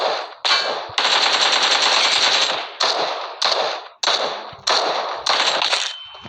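Automatic gunfire in the mobile game PUBG Mobile comes in several loud, rapid bursts, one long and the rest short, separated by brief pauses.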